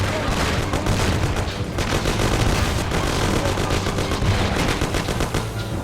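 Dense, sustained automatic gunfire from a shootout in the video game Mafia, loud and continuous with rapid overlapping bursts filling the whole stretch and no pauses.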